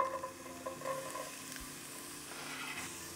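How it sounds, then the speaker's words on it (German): Onions and garlic sizzle in hot olive oil in a pan, giving a soft, steady frying hiss with light stirring scrapes and a small clunk, fairly quiet and close. "In das heiße Öl kommen Zwiebeln und Knoblauch"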